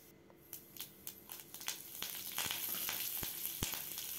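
Curry leaves crackle and sizzle as they hit hot oil in a pan, with sharp popping bursts that grow denser over a steady hiss, close and fairly loud, for a temple-style curd rice tempering.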